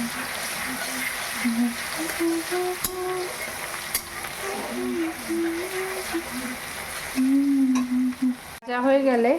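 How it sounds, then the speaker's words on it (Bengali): Garlic paste fries in hot oil with whole spices for chicken kosha, a close, continuous sizzle stirred in the pan under a woman's speech and background music. "রসুন বাটাটা দিয়ে দিলাম।"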